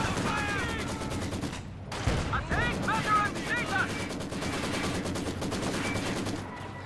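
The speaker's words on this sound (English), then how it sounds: "T-70 firing away" Rapid bursts of T-70 tank and battle gunfire rattle almost continuously through a Company of Heroes 2 game, with game voices and noise mixed over the shots.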